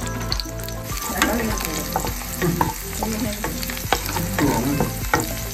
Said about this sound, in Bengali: রসুনটা একটু আলতো করে ভেজে নেব